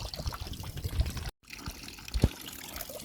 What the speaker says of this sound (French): Voilà, avec la cascade.